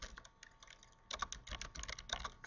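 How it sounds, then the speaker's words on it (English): Fingers tap out an email address on a computer keyboard in quick, uneven bursts of light clicks with short pauses between, close and quiet, with no one speaking. "you will simply need to type your email"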